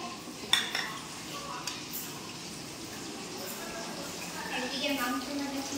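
Ingredients being stirred together in a pot for chilli chicken, with a sharp clatter of metal utensils near the start and soft continuous scraping and faint sizzling beneath background room noise.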